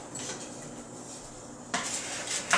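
Apples with brown and white sugar, cinnamon and nuts get stirred in a bowl, producing close clinking and scraping of a utensil against the bowl that grows busier toward the end, with no speech.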